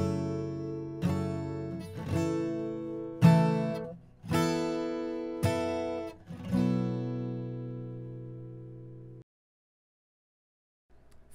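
A guitar strums a four-chord progression, with six distinct strums that each ring out and decay, played close and clear before fading to silence, with no talking.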